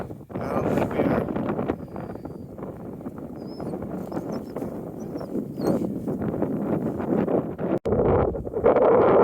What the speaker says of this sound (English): That wind is quite brutal.